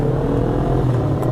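Close, steady motorcycle engine droning with a low rumble and slight rev at a workshop, brief and loud with no talk.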